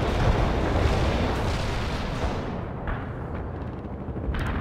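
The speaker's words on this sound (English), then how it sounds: "Okay, shots coming in there." Incoming shots and artillery shelling in the World in Conflict video game, a continuous heavy rumble of blasts and crackling bursts, loud and dense throughout, fading slightly toward the end.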